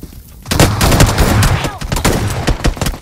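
Rapid gunfire and headshots ring out in a shooter video game, with close, loud bursts of shots following one another after a brief quiet start.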